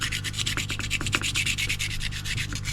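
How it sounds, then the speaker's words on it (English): Steady back-and-forth sandpaper rubbing on filler coating a model semaphore signal, close and rhythmic with even strokes and no talk. "So that's had 2 coats of filler. We just want to sand that back"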